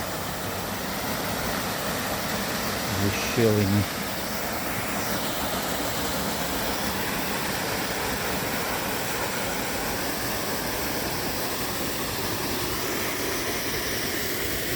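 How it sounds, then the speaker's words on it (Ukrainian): A small waterfall in a mountain forest rushes as a steady, moderately loud wash of water noise throughout, with a brief voice breaking in once near the start. "А ось шумить сам переступень. Ось він. Ось він такий водоспадик."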